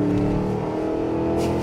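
A 2023 Cadillac Escalade-V engine pulls hard under acceleration, giving a brief, steady and full-bodied engine roar that stays loud throughout, with no voices.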